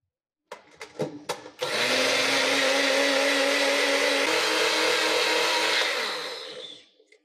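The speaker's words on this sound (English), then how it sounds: "the first thing that I did was throw it all into a small blender, and I let it run for a few minutes" A small blender grinds glow powder for homemade glow toys: a few quick clicks, then a loud, steady whirring motor that runs for about four seconds before winding down.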